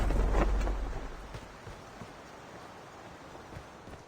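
Sandstorm wind in the mobile shooter game Call of Duty Mobile roars low and heavy at first, then settles into a softer, steady rushing noise with faint scattered thuds.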